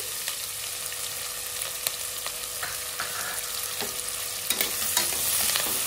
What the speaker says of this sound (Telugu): ఆనియన్ కూడా ఫ్రై కావాలి.